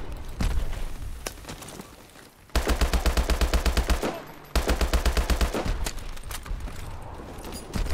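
Automatic gunfire in Call of Duty: Advanced Warfare, set in an arctic snow level: two loud rapid bursts of evenly spaced shots, each lasting over a second, separated by brief pauses, with quieter ambient rumble around them.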